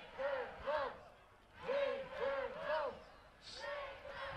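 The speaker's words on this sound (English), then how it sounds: "The crowd definitely giving some support there for the home nation." Spectators at a Colombia versus Netherlands rugby match chant and cheer in rising, rhythmic waves, voices swelling together in short repeated bursts at moderate distance.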